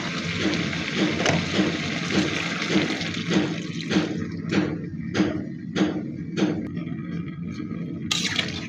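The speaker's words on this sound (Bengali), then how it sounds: "তো এখন ঝোলের জন্য আমি দিয়ে দিব গরম পানি।" Hot water is poured into a pan of koi fish curry with cauliflower, potato and tomato to make the broth: a steady rushing pour for a few seconds, then a run of sharp utensil clinks close by.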